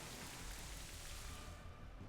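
Steady rain from the Rain Dance move in a Pokemon battle game, a dense, even hiss of falling rain that fades slightly toward the end, with no talking.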